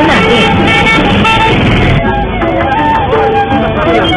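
Dense street traffic of taxis and auto-rickshaws in India, with horns honking and tooting almost continuously over loud engine rumble and a crowded roadside din.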